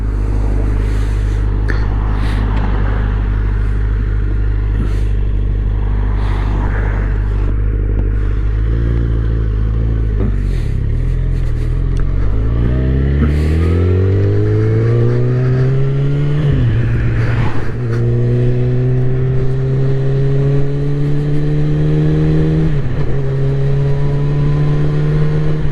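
Yamaha FZ1N motorcycle with a GPR Ghisa exhaust riding on the road, its engine droning steadily, then revving up through rising gear changes, with pops and burbles crackling from the exhaust, loud and close throughout.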